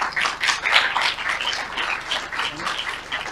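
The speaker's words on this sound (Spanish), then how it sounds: "por favor, un aplauso de bienvenida" Welcome applause from an audience at a workshop, a steady patter of clapping at moderate level that continues for a few seconds.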